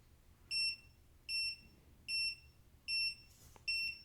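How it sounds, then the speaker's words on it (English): A Zeepin tire pressure monitoring unit sounds an alarm: five evenly spaced, sharp electronic beeps, each about a quarter second long, clear and close in an otherwise quiet room. "presumably that's what the alarm will sound like"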